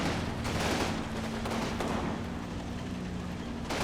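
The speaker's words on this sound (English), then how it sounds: "My 2-inch mortars are also finally getting set up, so they're going to start firing away." Battlefield gunfire from the war game Combat Mission Final Blitzkrieg as 2-inch mortars open up: a dense, continuous barrage of firing and impacts over a steady low rumble, loud throughout with a few sharper bursts.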